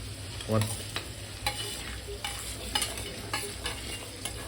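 Onion and tomato paste stirred in a pan over medium heat for homemade pav bhaji, steady close sizzling with repeated scraping strokes of a spoon roughly every half second, no talk.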